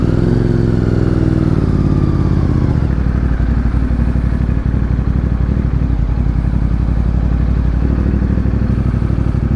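A motorcycle engine runs close by on a narrow road in Camarines Norte, Bicol, with a steady mid-pitched drone and dense clattering pulses that shift lower partway through and hold loud to the end.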